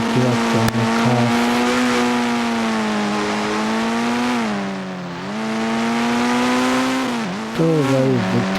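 An old Thar's engine drones loudly in the Indian Bikes Driving 3D mobile game, a buzzy synthetic tone that sags and climbs again as revs drop and rise, with brief stutters at the start and end.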